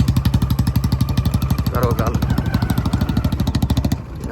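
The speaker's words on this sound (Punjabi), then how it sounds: "ਬੁਲਟ ਪੁਰਾਣੇ ਦੀ ਵੜਕ ਪੂਰੀ" An old Royal Enfield Bullet's engine thumps in a fast, regular beat close by, while a voice speaks briefly over the running motorcycle before the throb dips near the end.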